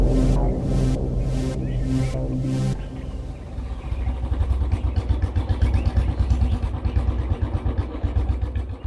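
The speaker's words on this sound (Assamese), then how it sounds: "বাইকখন লৈ ওলাই আহিলি যেন" A motorcycle ridden along a road chugs and revs in quick, uneven pulses, close and fairly loud, coming in after a stretch of rhythmic music.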